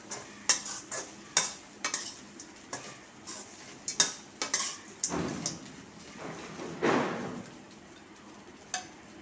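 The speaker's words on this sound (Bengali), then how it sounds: "সবজিটা দিয়ে একটু নাড়াচাড়া করে নিলাম" Vegetables and rice flakes being stirred in a pan for a chira pulao, with repeated sharp scraping strokes of a spoon against the metal over a light sizzle, fairly close and steady.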